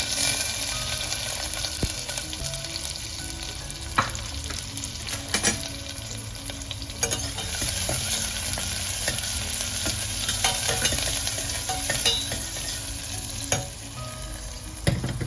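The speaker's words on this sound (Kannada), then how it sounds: "ಇವಾಗ ಇದಕ್ಕೆ ಈರುಳ್ಳಿ ಹಾಕ್ಕೊಂಡು ಚೆನ್ನಾಗಿ ಫ್ರೈ ಮಾಡ್ಕೊಳ್ಳೋಣ." Onions sizzling steadily in ghee for a vegetable ghee biryani, with scattered scraping knocks of a spoon stirring the pan throughout, close and continuous with no voices.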